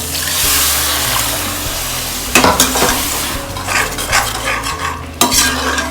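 Water poured into a pan of frying chilli dal salan sets off loud sizzling and bubbling, with a few clinks of a spoon stirring against the pot.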